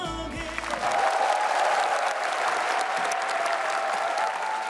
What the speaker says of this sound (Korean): 이러면은 보고 오신 분들 박수를 좋아하시는 분들인가요?